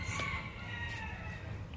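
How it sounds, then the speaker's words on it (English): A rooster crows in the distance amid steady outdoor background noise, the call drawn out and fairly faint. "So if you can hear the roosters"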